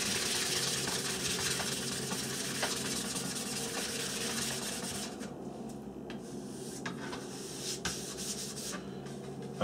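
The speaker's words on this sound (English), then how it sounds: "I'm just going to give this a rub over with a little piece of my warm Scotch-Brite" A model aircraft wing, an He 219, rubbed over with a small piece of Scotch-Brite pad: a steady, close scratchy rasp that continues throughout and eases slightly partway, with a few small clicks.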